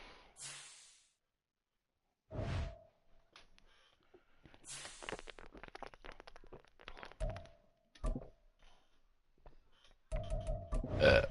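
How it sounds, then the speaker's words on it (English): One man burps several times in separate, fairly loud bursts, spread across the clip with short quiet gaps between them. "Burp."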